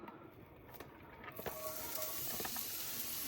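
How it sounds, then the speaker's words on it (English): Onions sautéing in lard in a skillet, a steady close sizzle and hiss that swells to full strength after a quieter opening, with no talking. "I'm gonna go in with my skillet with some lard here. You can use butter, whatever you have. I'm gonna go in with my onions"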